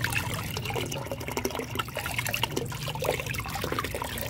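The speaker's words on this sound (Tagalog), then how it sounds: "Hugasan ko lang ito. Hugasan ko rin ito." Running water washing oregano leaves, a continuous close splashing trickle with soft irregular spatters throughout.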